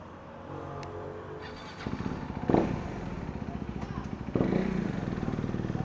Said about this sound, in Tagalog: Harley Davidson yan